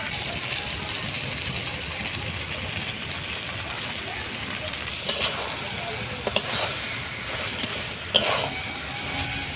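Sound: frying in hot mustard oil

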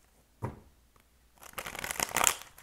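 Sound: shuffling tarot cards

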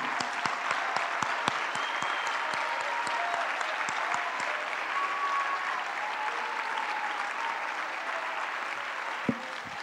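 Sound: congregation applauding in church

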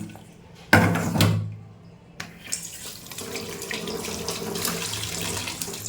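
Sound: tap water running while washing fish

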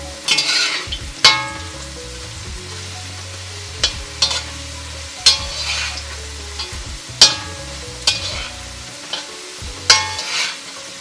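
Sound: potatoes frying in oil with masala, scraped and folded

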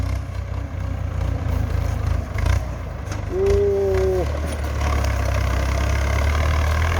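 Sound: Ford tractor engine running while clearing stumps

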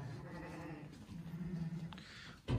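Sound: goats bleating

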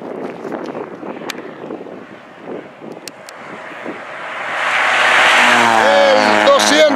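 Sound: rally car driving past, Caminos del Inca rally

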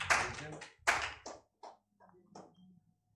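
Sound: clapping

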